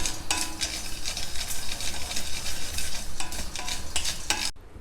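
Groundnuts dry roast in a pan while being stirred, giving a busy, close scraping and rattling of nuts against the metal in quick repeated strokes, then cutting off abruptly.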